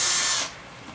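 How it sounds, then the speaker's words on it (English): A power drill bores the second mounting hole for an Ultimate Lock horizontal surface-mount lock: a bright, close whirring burst of about half a second, then it cuts off, leaving quiet room noise. "and drill the second."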